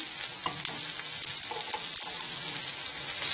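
Aubergine slices fry in a griddle pan with a steady, close hiss and crackle, broken by a few soft scrapes and light knocks against the pan.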